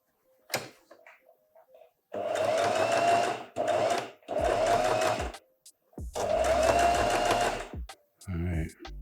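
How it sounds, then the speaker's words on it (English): Sewing machine stitching fabric in several loud, close bursts of rapid mechanical whirring and needle chatter, with short pauses between runs and a few clicks and handling noises. "the needle's gone all the way down"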